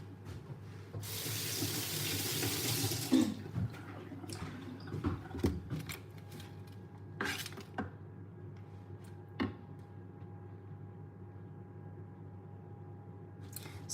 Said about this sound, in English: I need to wash my onion.